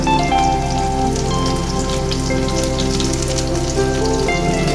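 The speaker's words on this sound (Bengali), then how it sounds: "এটিকে ভাজতে থাকলাম" Ginger, green and dried chillies and whole garlic fry in a pan until reddened, making a dense, continuous sizzle and crackle at close range that stays loud and even throughout.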